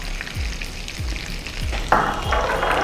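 Grated coconut and curry leaves sautéing over low heat in a pan for coconut rice, a steady soft sizzle close by, with a spatula scraping and stirring at regular intervals.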